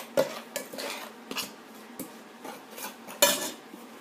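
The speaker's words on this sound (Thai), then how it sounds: "คนทุกอย่างให้เข้ากันนะคะ" Khanom khrok batter of thick coconut milk and salt being stirred in a bowl, a utensil clinking and scraping against the dish in irregular knocks, close and fairly quiet, with one sharper clank near the end.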